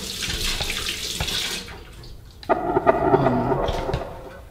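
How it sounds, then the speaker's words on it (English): A tap runs as hands are washed under it in a home kitchen. A close, splashy stream pours for about two seconds and stops, then light knocks and a brief gurgle of water follow. "Little hand wash"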